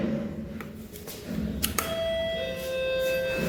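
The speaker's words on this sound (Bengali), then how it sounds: "আমরাই কলিং বেল দিতেছি।" An electronic doorbell is pressed at a village home, and its clear chime tones ring out in the second half over background room noise and faint voices.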